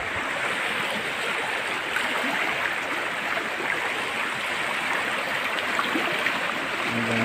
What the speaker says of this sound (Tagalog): Parang naging sapa itong daan.